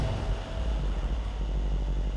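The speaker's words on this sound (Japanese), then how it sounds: "ではエンジンの方をかけていきます。" A 2015 Mercedes-Benz SL550 AMG Sport Package with a 4.7-liter engine starts and settles into a quiet, steady low hum, heard close up with nothing else around it.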